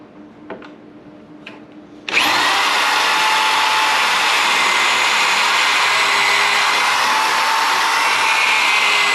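Power drill boring pilot holes for screws in plywood while building a cart: a couple of faint taps, then the drill starts abruptly and whines loudly and steadily at close range without a break.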